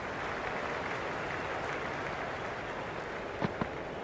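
Distant stadium crowd applause in the cricket video game Cricket 26, during The Hundred tournament, a steady, faint wash of clapping with no voices.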